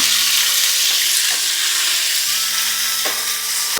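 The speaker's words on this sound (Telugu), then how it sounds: "ఎండుమిరపకాయలు కరివేపాకు ఉప్పును అలాగ ఒకసారి బాగా కలుపుకున్నాం" Dried red chillies, curry leaves and salt sizzle loudly in a hot pan while being stirred, giving a steady bright hiss with a few soft scraping knocks and no voices.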